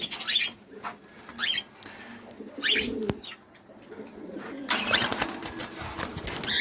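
Cage birds, including cockatiels and other finches, chirp busily in a bird shop, with bursts of close, loud tweeting and a soft cooing pigeon underneath, the calls coming in clusters with brief lulls.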